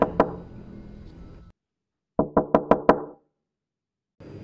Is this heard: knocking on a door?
yes